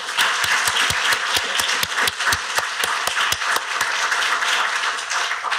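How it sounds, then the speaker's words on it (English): Steady applause from a crowd, sustained throughout with individual sharp claps standing out close by, no one talking over it. "Can we give a round of applause to our speakers tonight?"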